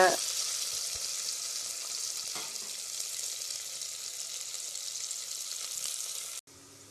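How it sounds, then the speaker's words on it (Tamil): Chopped big onions and green chillies sizzle steadily as they fry golden in a pan for a mushroom biryani, a dense continuous crackle with no talk, cutting off abruptly near the end. "பெரிய வெங்காயம், பச்சை மிளகாயை போட்டு நல்லா பொன்னிறமா வதக்கிக்குங்க"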